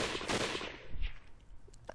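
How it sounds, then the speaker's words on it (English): A quick volley of gunshots rings out in the game Hakuoki: Kyoto Winds, starting dense and loud, then tailing off into softer scattered cracks. "The sound of the gunshots firing"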